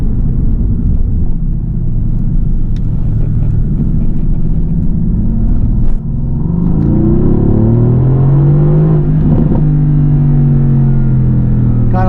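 Mercedes-AMG GT S with a bi-turbo V8 driving in Sport Plus mode, a loud deep engine drone that briefly dips, then rises again in a long, climbing rev.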